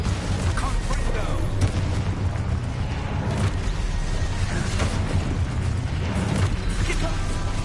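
Fiery blast-spell explosions from the Hogwarts Legacy video game, dense booming bursts and crackling impacts layered over constant combat noise, continuous and loud throughout.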